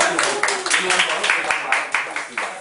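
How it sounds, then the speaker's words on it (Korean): An audience claps in a rapid, even patter of many hands at a talk event, close and steady across the short burst. "박수 한번 쳐주세요."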